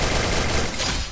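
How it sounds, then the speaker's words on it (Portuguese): Rapid gunfire exchanges in a mobile shooter video game, a dense burst of shots filling the whole moment, loud and close. "Calma aí que eu tô trocando tiro."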